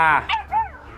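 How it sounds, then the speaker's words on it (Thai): A dog near its doghouse at home lets out a sharp close bark, then a couple of shorter yips that trail off into whimpering tones. "เสียงหมาเห่าครับ"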